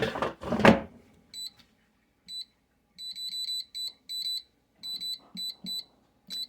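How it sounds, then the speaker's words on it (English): After a short clatter, an air fryer's timer alarm sounds in repeated bursts of thin, high electronic beeps, grouped in short runs with gaps, clear and close in a quiet kitchen. "our air fryer just went off"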